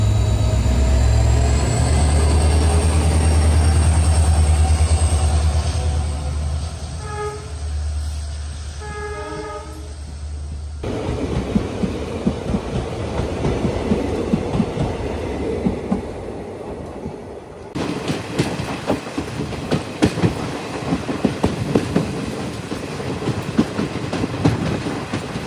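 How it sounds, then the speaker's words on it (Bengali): A passenger train arriving at Ramanathapuram station on the line toward Rameswaram: a long, loud horn sounds near, then a steady rumble and clatter of rolling wagons carries on with rougher bursts as it comes in. "আমাদের ট্রেন এই মুহূর্তে এসে পৌঁছালো তার যাত্রাপথের রামানাথপুরম স্টেশনে।"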